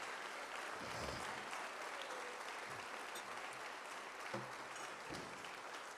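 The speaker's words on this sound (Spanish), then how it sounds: "¿Por qué no le damos un aplauso fuerte a los pastores de la casa?" A church congregation applauds its pastors in a steady, dense wash of clapping that carries on for the whole stretch, fairly distant and even in level, with a few low thumps and brief vocal bits mixed in.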